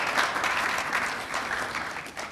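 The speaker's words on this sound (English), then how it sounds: "Can we clap for YEA, please?" A studio audience claps on a morning TV show during talk of sponsors backing women's football in Ghana: a dense, even burst of applause that eases off slightly toward the end.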